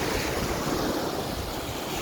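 Heavy waves crash and hiss along a seashore at dawn, a dense, steady roar of surf with gusty wind noise on the microphone and no talking.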